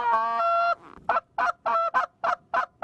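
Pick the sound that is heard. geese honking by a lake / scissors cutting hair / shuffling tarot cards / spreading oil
geese honking by a lake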